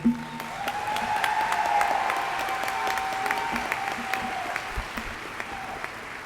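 An audience at the ESU graduate commencement in spring 2017 claps steadily and evenly in a large hall. The broad applause holds for several seconds, with individual claps standing out now and then.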